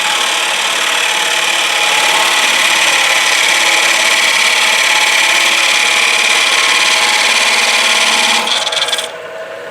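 A skew chisel rides against a wooden bowl spinning on a lathe, a steady, loud hissing scrape that holds constant for about nine seconds before cutting off abruptly near the end.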